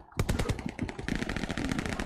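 Rapid machine-gun fire strikes the player's tank in a video game, a fast, loud, continuous rattle of shots lasting the whole moment with no pauses.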